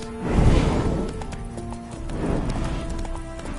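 Horse hooves clip-clop steadily in the video game The Witcher, a close, loud, rhythmic trotting with a gusty rush around it and no talking.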